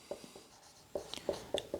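Pen scratching on paper while GST journal entries are written out by hand: quiet, close strokes in short irregular bursts, with a pause before a quicker run of marks.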